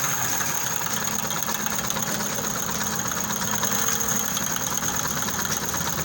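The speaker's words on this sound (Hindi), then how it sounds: "इसकी टाइमिंग चेन की आवाज़ सुने आप।" An idling motorcycle engine runs steadily up close, with a fast metallic ticking rattle from a worn timing chain layered over its low hum, even and continuous throughout.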